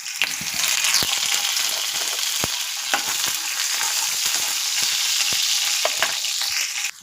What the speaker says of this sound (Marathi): तेल गरम झालेले मिरचे टाकूया तर याच्यात थोडंसं कढीपत्ता टाकूया